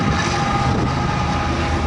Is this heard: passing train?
yes